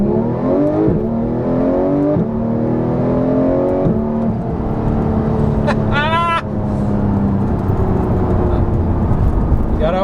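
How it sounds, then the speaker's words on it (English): A Porsche GT3 with a manual gearbox and its exhaust sound mode on accelerates hard from a red light, its engine note climbing in pitch through several gear changes, then a sharp high whine near the end, loud and close. "we're just gonna floor it"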